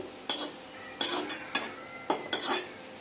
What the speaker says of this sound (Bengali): আমি তরকারিতে দেবার জন্য একটু জিরে ভেজে তুলে নিচ্ছি